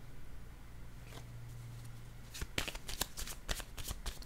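Tarot cards are shuffled and drawn close up during a reading. A low hum comes first, then a quick run of crisp flicking and riffling snaps with no voice.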